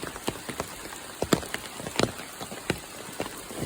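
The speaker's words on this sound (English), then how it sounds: "walking in the rain" Steady rain patters on surfaces all around during a hike, with scattered sharp drops and irregular footstep-like taps close by; no one speaks.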